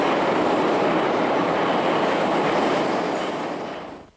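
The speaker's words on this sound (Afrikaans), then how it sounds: "Maar kort daarna is die trein weer terug in die tonnel en beweeg hy weer voort teen sy normale hoë spoed." A Moscow metro train rushes through a tunnel at its normal high speed, a loud steady roar of wheels and rails that holds evenly before fading away at the end.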